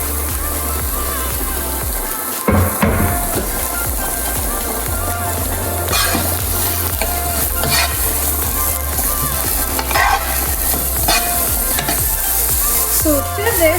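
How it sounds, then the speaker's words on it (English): Ginger and onion lightly brown in a pan for shepherd's pie, a loud continuous frying sizzle up close with frequent spatula scrapes and stirring clatter throughout. "we are putting in our ginger and onion first. We are just going to lightly brown it."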